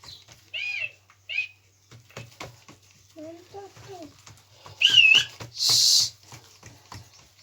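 Short, bright bird whistles come in a few separate bursts, some sharp and loud near the end, with soft murmuring voices in between.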